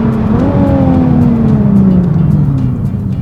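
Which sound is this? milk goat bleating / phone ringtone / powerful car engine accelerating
powerful car engine accelerating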